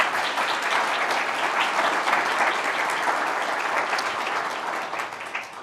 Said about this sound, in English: A round of applause for the governor,